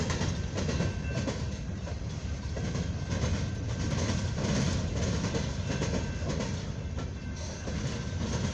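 A long CSX train of empty coal hopper cars rolls past on the main line at a junction in Fostoria, giving a steady, loud rumble with clattering wheels throughout and no voices.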